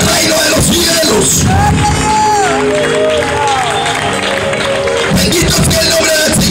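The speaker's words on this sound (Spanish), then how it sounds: "Si usted tiene el sello, dale un fuerte aplauso a Dios." Pentecostal church congregation applauding loudly at an evangelistic campaign service, a dense sustained clapping and cheering crowd with scattered shouts and voices over it throughout.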